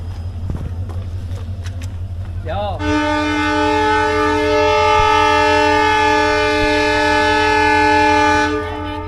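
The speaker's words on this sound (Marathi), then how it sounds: "फक्त एका मिनटात आपली ट्रेन सुटली" A train departs, its loud sustained horn blaring steadily for several seconds after a low rumbling start, close and dominant before cutting off near the end.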